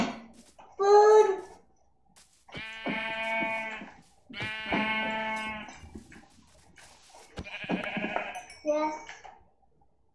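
Sheep in a survival video game bleat loudly in several drawn-out, wavering calls spaced across the stretch, close by, with a brief spoken word between them.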